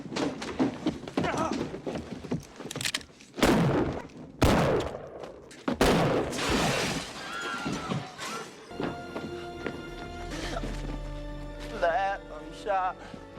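Gunshots in a western film scene, with several sharp, loud cracks among tense shouting voices, followed by horse hooves and a whinny under a rising music score.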